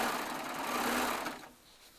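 A Baby Lock serger stitches through quilting fabric with a steady, fast mechanical whir, loud and continuous, then drops away near the end to a quieter hum.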